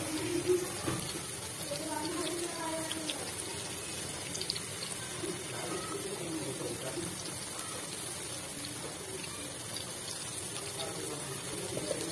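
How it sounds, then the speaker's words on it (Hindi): Lacha pakoras deep frying in hot oil give off a continuous close sizzle and bubbling hiss that stays steady throughout, with faint background sounds. "चले हम अपने पकोड़ों को डीप फ्राई कर लेते हैं।"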